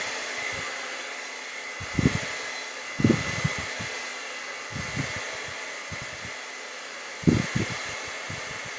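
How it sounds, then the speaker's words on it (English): A hair dryer blows steadily and loudly over a freshly painted vase-and-zinnias picture, a continuous whooshing roar with a few brief low thumps and knocks as it is moved around. "We're going to just dry all this now."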